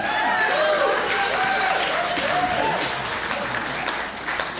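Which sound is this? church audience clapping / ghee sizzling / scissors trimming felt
church audience clapping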